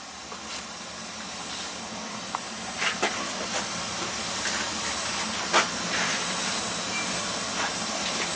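A Slant Fin Galaxy 160,000 BTU steam boiler runs with a steady broadband roar and hiss, dotted with faint clicks and ticks, heard up close on its first fire-up after installation.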